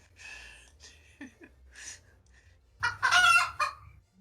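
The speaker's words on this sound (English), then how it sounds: "I only have 2 sound effects for chickens." A chicken sound effect plays during a Dungeons & Dragons tabletop session: a few soft clucks first, then a loud, close squawking crow near the end.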